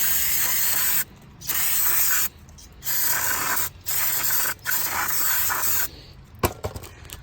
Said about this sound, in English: Spray the hub with some brake clean.